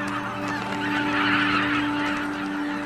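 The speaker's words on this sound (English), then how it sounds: "the snow geese prepare to leave" A large flock of snow geese honks in a dense, continuous chorus, many calls overlapping at a distance with no pauses, on the Arctic tundra near Wrangel Island's coast in autumn.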